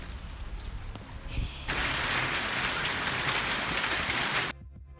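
Heavy rain pours down in a sudden loud, steady wash during a storm, beginning abruptly after quieter background noise and cutting off sharply near the end.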